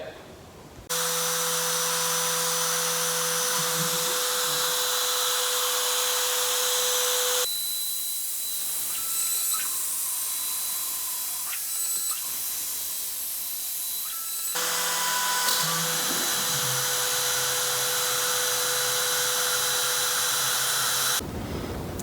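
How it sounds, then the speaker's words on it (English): A Lead CNC machine drills holes for a squaring test: a loud whining spindle with a steady tone runs throughout, and the drilling noise shifts in three distinct passages as it moves between holes. "I'm going to drill four holes in a 1000 mil square"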